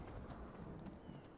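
A horse's hooves clip-clopping along in the video game Skyrim, a faint, continuous trotting patter set in a soft game soundscape, with no talk.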